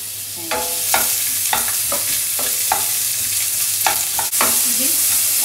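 Chopped onions frying in a pan for paneer butter masala, with a bright constant sizzle and regular spatula scrapes and taps against the metal, close and loud, with no talking.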